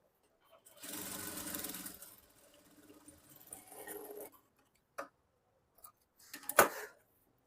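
A sewing machine stitching two front parts of a fitted blouse together, running in a steady whir for about three seconds with a quieter stretch after, then a few short clicks and a sharp knock near the end.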